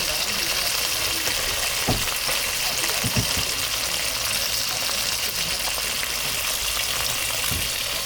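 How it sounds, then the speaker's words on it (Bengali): Amudi river fish, salted and coated in turmeric, frying in a wok with oil, a continuous loud crackling sizzle close by with a few soft clinks of a utensil. "আমুদি মাছ ভাজা হচ্ছে, আমুদির সঙ্গে শুধু একটা ভোলাও আছে।"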